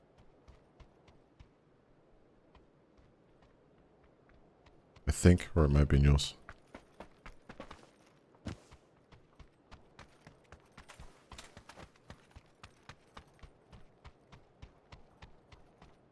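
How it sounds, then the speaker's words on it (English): Rhythmic footsteps close by, a steady run of crisp clip-clop steps that starts faint and grows denser, with a short burst of louder rustling noise and a person talking partway through. "There's one close to me somewhere. I can hear footsteps"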